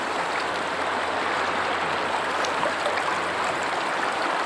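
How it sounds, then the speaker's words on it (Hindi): River water rushing under a bridge on the Diana river, a steady, loud broadband roar that stays constant without pauses and with no talking. "वो पानी का बहाव है ना"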